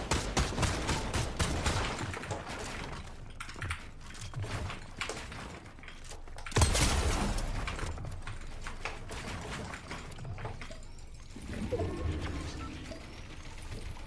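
Fortnite gunfire in a laggy online match, dense rattling shots and mechanical clicks running throughout, with a sharper blast near the middle and bursts coming and going.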